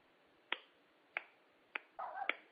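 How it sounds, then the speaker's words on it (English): Four sharp, evenly spaced hand claps, close and dry in a quiet room, with a brief burst of muffled noise just before the last one. "That's the sound of me clapping."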